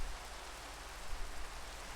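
Soft, steady rain hiss in the video game Sky Factory 3, faint and even throughout with a low rumble underneath and no voices.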